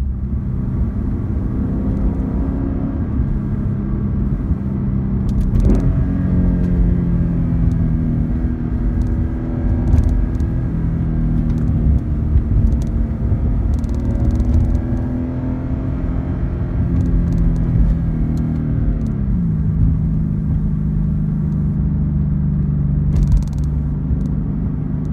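A Lexus IS F engine drones steadily while driving, a deep rumbling hum with pitch shifts as it changes gears, continuous and close with no talking.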